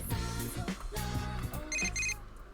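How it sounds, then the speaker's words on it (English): An incoming phone call rings in the video game Persona 4 Golden, a repeating electronic ringtone in short pulsed bursts over background game music, with no talking. "Phone call."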